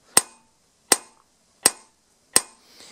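Four sharp metallic hammer strikes on a blade during peening, evenly spaced about three-quarters of a second apart, close and crisp with quick decay and no talk.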